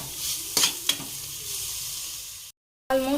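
Egg bhurji with drumstick leaves fries in a pan with a continuous close sizzle and two quick stir scrapes early on, then a brief cut to silence before the frying resumes.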